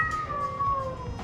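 A pet cat meows once in a long, drawn-out cry that slowly falls in pitch, close by over a low background rumble.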